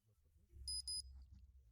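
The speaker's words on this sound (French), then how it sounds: "On entend aussi un bip, ce qui signifie que l'électronique est maintenant réinitialisée." Two quick high-pitched electronic beeps in close succession, short and clear, over a faint low hum, as a Burg-Wächter electronic safe resets.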